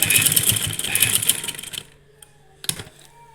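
A sewing machine stitches a cut-work V-neck design with a fast, loud mechanical chatter for nearly two seconds, then stops, leaving near silence broken by a couple of faint clicks and a short burst of stitching.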